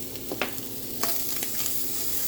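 Food sizzling and frying in a hot cast iron pan, a loud continuous hiss punctuated by a few sharp crackles and stirring scrapes, with no talking.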